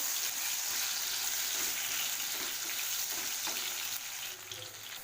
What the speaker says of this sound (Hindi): आलू को हम लाल करके फ्राई कर लेंगे।